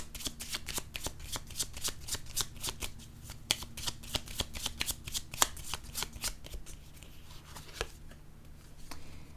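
Tarot cards being shuffled by hand, a long run of crisp, rapid riffling snaps and flicks close up, steady rhythm with brief pauses, no voices over it.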